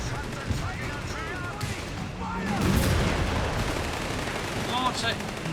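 Heavy gunfire and explosions from the Company of Heroes 3 strategy video game, with dense bursts of rifle and machine-gun fire, deep booms and whistling shells layered under a busy battlefield din, swelling in the middle.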